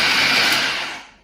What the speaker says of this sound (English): if we get this blender set up so that it's running on a low speed